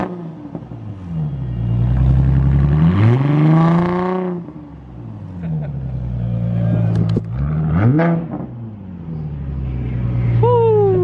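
A Ford Mustang engine being revved after a warm start, rising and falling through several loud, close throttle blips with a deep exhaust tone, and a voice occasionally heard over it.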